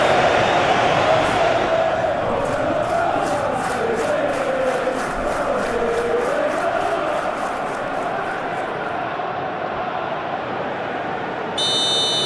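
Stadium crowd noise from a football simulation game fills a capacity ground for a Chelsea versus Manchester City Premier League match, a steady loud roar with rhythmic chanting pulses throughout and a brief electronic tone near the end.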